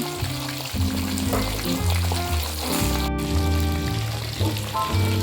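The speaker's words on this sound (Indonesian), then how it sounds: "Lele yang sudah kita cuci lalu kita bumbuin dan kita diamkan sebentar. Setelah itu lalu kita goreng." Seasoned catfish frying in hot oil gives a continuous soft sizzle beneath louder background music, steady throughout with no talking.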